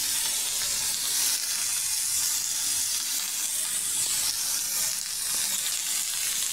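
Food sizzles steadily in hot oil in a pan, seasoned with salt, mustard and turmeric, with a constant bright hiss and faint stirring scrapes, close up and without talk.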